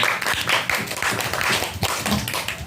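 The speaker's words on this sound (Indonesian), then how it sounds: "Kita beri aplaus untuk Boyos dan Pak Rio." An audience applauding two people at a talk on programs for visually impaired children, a dense burst of clapping from many hands, close and lively, running for a few seconds with no talk.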